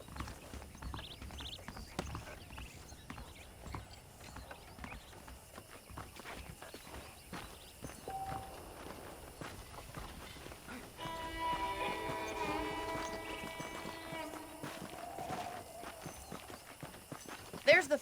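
Horse hooves clip-clopping at a walk in the Red Dead Redemption video game, a steady, close rhythm running throughout, partly under a voice and background game music.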